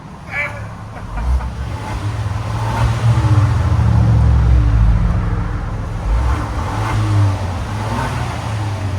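A Kia Stinger 2.0 turbo engine rumbles close by, swelling louder for a few seconds as it revs, then settling back, with faint muffled voices in the background.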